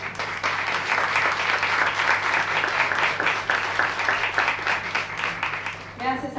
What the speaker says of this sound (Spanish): Yo creo que merece un aplauso también.